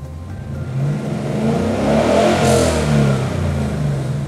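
A car engine held at 4,500 rpm with the parking brake on during a crank sensor relearn, rising smoothly from idle into a loud, sustained rev that holds steady without voices.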